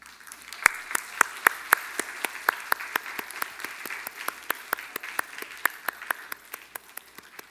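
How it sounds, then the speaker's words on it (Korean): Sparse, crisp applause from a church congregation sending off a young man entering the army, with individual claps standing out clearly in a steady rhythm over a quiet room for the whole stretch. "한번 크게 한번 박수 쳐 주시기 바랍니다."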